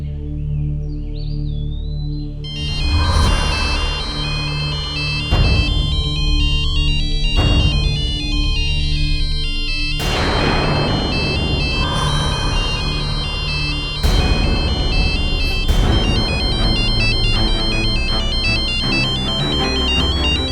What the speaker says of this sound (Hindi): अरे आप किसे फोन लगा रही हैं मैडम?